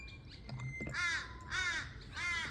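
A crow caws three times in a slow, evenly spaced series, harsh and fairly close, with quiet background noise between the calls.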